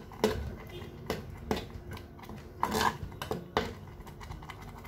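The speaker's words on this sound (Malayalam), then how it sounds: "ഇളക്കി കൊടുക്കാം ആ തേങ്ങ ഒന്ന് ചൂടാവുന്നവരെ ഇളക്കി തന്നെ കൊടുക്കണം" A spatula scrapes and knocks against a pan while grated coconut is stirred over heat, several distinct clattering strokes at an uneven rhythm, close and moderately loud.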